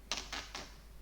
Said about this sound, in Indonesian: Contoh 15 saya akan tekan print lagi.